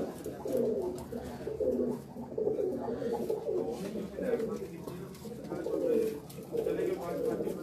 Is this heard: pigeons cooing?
yes